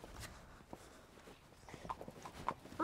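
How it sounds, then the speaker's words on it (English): Soft, wet squelching hoofsteps of a pony plod at an uneven pace through mud, fairly close, with a louder splash at the very end. "you can hear the slosh of him walking through"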